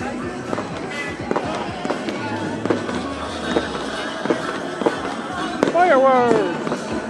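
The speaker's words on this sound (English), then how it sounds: "Fireworks!" Fourth of July fireworks pop and crack repeatedly in irregular bursts, fairly close, during a street bike ride in Los Angeles, with excited voices and chatter mixed in among the blasts.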